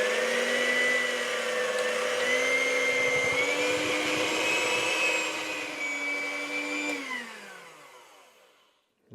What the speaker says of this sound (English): now we're going to mix it all up and blend it